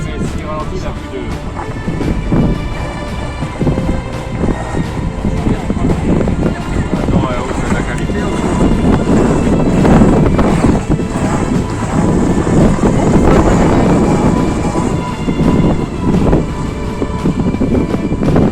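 Strong wind buffets the microphone outdoors where a radio-controlled model boat is sailing, in loud, gusting roars that rise and fall throughout, with occasional low rumbling thumps.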